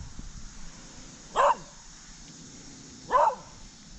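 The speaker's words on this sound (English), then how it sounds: "barking dogs" A dog near a pond barks twice, a few seconds apart, each a short mid-distance bark over quiet outdoor ambience.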